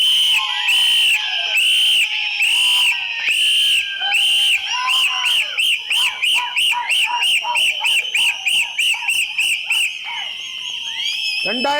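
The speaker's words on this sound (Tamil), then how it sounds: "நம்ம இப்ப அடிக்க போற விசில் ஒரு வீட்டுக்கு கேட்கணும்" A large crowd at a political rally in Kolathur constituency blows whistles in unison, with long loud blasts giving way to a rapid rhythmic series of short bursts and then a final sustained wail, with shouting mixed in.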